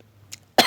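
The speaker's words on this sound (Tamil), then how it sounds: "உங்களுக்கு பேசினா நிறையா இருமல் வருதுங்க" A single sharp, close cough bursts out near the end of a short, otherwise quiet stretch, with only a faint soft sound just before it.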